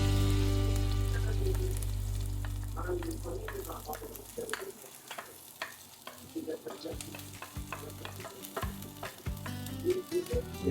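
Chopped garlic sautéing in oil in a pan for a chicken and squash dish, with a steady sizzle and intermittent scraping stir strokes. There is a low hum in the first half, and the stirring grows busier toward the end.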